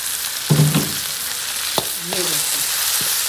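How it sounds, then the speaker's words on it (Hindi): Cumin seeds crackle and sizzle in hot oil for bhindi masala, a steady frying hiss with a few sharp pops scattered through it. "इसमें मैं पहले ये ज़ीरा डालूँगी ताकि ज़ीरे की आवाज़ के पुड़ पुड़ पुड़ पुड़ के आने चाहिए"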